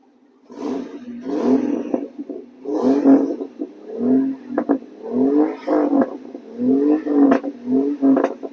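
Jeep YJ engine cranking and firing up, then running with repeated revs through a non-original exhaust that sounds crackly; loud, close, rising and falling surges with short pauses between.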